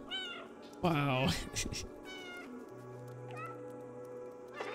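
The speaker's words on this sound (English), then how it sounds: "Left alt to meow." A cat meows in the video game Stray: a few clear, bright meows stand out, one loud and prolonged, over game ambience, while a player briefly exclaims.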